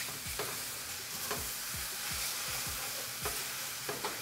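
Garlic, leeks and spinach sautéing in a pan, a soft steady sizzle broken by repeated scraping strokes of a utensil stirring, close and quiet with no talking.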